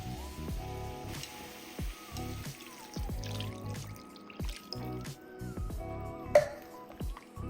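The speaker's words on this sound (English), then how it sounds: "And then I'm going to put a little bit of chicken stock," Vegan chicken stock is poured into a cooking pot, giving soft trickling and dripping sounds, quiet and intermittent over a faint background hum.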